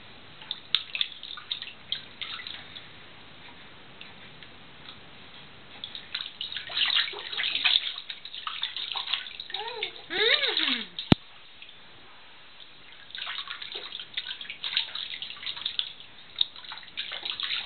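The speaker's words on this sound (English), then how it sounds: "I love splashing in the water." A child splashes in bath water, with intermittent sloshes and drips at close range; quiet stretches fall between bursts of splashing, and faint voices are audible at times.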